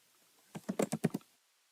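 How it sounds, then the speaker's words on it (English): Typing on a computer keyboard while entering a SQL server username, a short close burst of about six quick keystrokes in an even rhythm, alone with no voices. "In the next box, I type in my username for the SQL server."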